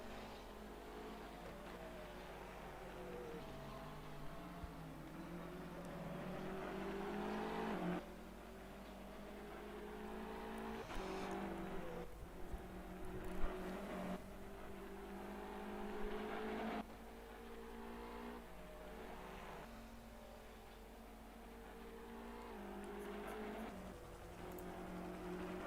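A BMW GT3 race car screams around the Bathurst mountain circuit in the rFactor 2 sim, its engine holding a steady high drone with repeated gear-shift dips and climbs, close and continuous with no talk over it.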